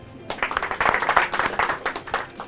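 Studio audience on a Hindi public talk show clapping together in a steady, moderately loud burst that runs the whole moment without a break.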